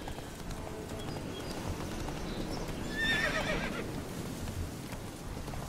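Roach the horse in The Witcher 3 galloping, with rapid faint hoofbeats under a low ambient bed and a short neigh rising in the middle.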